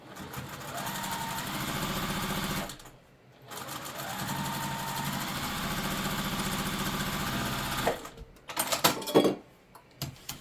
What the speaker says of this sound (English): I'm just going to go ahead and sew the bottom on and press all of these at once.